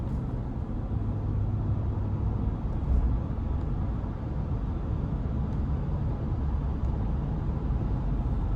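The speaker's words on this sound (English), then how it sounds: "we're just gonna give it a little gas, merging on the interstate, not gonna give it too much throttle" A 2021 Chevrolet Tahoe High Country with the 6.2-liter V8 gets light throttle while merging onto the interstate, a steady low engine and road rumble filling the cabin with no talk over it.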